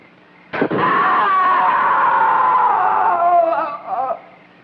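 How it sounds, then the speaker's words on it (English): A loud, sustained high-pitched scream starts abruptly and holds for several seconds, trailing into a couple of shorter wavering cries. "Sure, I heard a scream."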